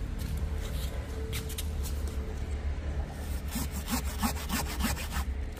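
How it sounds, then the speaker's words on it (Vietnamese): A hand saw cuts through a large fig bonsai branch in steady back-and-forth rasping strokes, close and continuous, speeding into quicker strokes toward the end. "Đấy, em cưa cái đoạn đấy đi cho anh."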